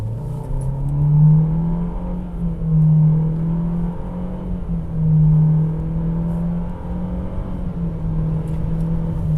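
A Renault Oroch pickup with a 1.3 turbo engine accelerates from inside the cabin, its engine note rising and dipping in quick successive gear changes, steady and close with no talking.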